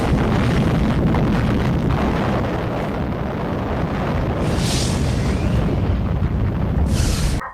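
A huge sustained explosion roar standing in for a nuclear chain-reaction blast, loud, dense and rumbling continuously throughout with no talk.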